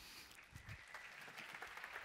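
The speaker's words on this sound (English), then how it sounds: "Give him a round of applause" A keynote conference audience applauds in a large hall, a continuous, fairly faint patter of many hands with some low murmuring mixed in, steady for the whole stretch.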